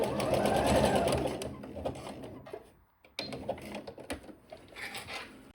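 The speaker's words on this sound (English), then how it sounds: "make sure to backstitch a little over your stitches" A sewing machine backstitches an elastic waistband onto a jersey skirt, running in bursts of close mechanical stitching with a brief pause midway, near and moderately loud.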